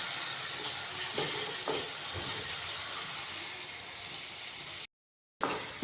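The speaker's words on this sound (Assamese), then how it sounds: "এয়া এতিয়া মই দিছোঁ বিলাহী পেষ্টটো আৰু অকণমান ভাজিম" Tomato paste fries in a pan for matar paneer, giving a steady crackling sizzle with a few soft stirring scrapes and a short silent gap near the end.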